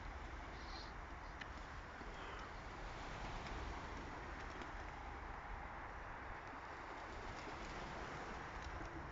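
Soft pigeon coos sound faintly through a steady, noisy outdoor background at a pigeon loft, with occasional brief bird calls and no talking.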